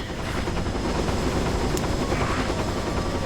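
A helicopter in the PS2 game Dirge of Cerberus Final Fantasy VII gives off a steady, dense rotor and engine roar that fills the whole stretch without letting up.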